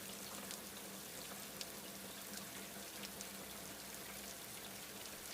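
A steady, dense hiss of heavy rain pours continuously, with faint scattered drips and no voices.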